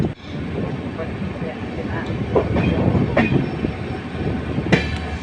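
Amaravati Express passenger train running just after departing Gadag station, a steady close rumble of rolling wagons with a few sharp clicks and clanks from the wheels, heard from inside the coach alongside faint murmuring voices.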